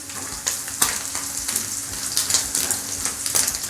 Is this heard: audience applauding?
no